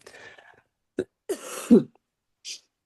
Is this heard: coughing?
yes